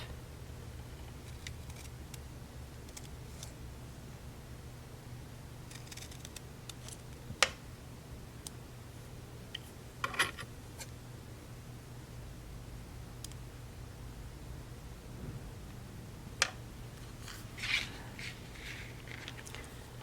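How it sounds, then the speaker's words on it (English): Scissors snip pieces of washi tape during a craft session, a few quiet, sharp isolated cuts spread apart over a faint, steady room hiss. "I'm going to snip this"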